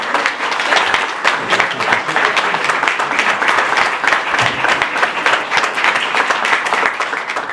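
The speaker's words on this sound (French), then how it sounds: "Et vous pouvez l'applaudir." Audience applause at a youth literary prize ceremony in Brabant wallon, loud and continuous, with distinct individual claps over a steady wash of clapping.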